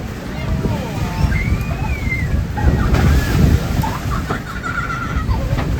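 Ocean waves slap and wash over a boat off Tanna, Vanuatu, in a continuous sloshing rush with wind buffeting the microphone and faint high voices in the background.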